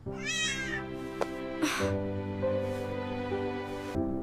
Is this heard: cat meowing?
yes